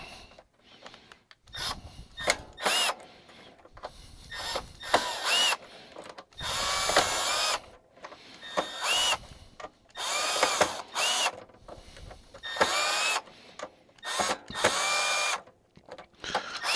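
Power drill driving screws out of an old, dead Bosch tankless water heater, whirring in repeated loud bursts of a second or two with short pauses between, close and alone.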